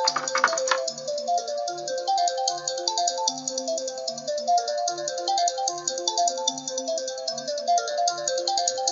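A mobile phone ringtone plays a repeating electronic melody of bright chiming notes over a steady high buzzy tone, continuous and fairly close, with no talk over it.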